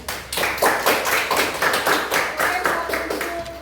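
Classroom group applause for discussion group 2, a dense burst of many hands clapping steadily throughout with a slight fade near the end.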